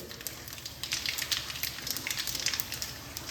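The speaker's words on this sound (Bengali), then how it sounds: "তেল গরম হয়ে গেছে, আমি এবার 1 চামচ কালো জিরে দিয়ে দিচ্ছি।" Black cumin seeds sizzle and crackle in a small amount of hot oil in a pan, a quiet, close, irregular patter of sharp pops.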